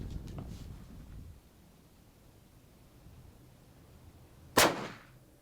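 A single sharp gunshot from a Traditions NitroFire muzzleloader at a range, loud and close, ringing off briefly after a quiet stretch with faint earlier noise.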